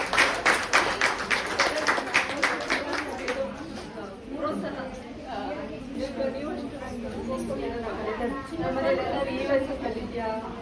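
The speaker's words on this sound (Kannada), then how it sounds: "ಜೋರಾದ ಚಪ್ಪಾಳೆ ಬರಬೇಕು" Audience applause and crowd clapping at a student certificate distribution ceremony with a cultural program, a burst of dense, loud clapping at the start that fades into a steady murmur of chatter and scattered claps.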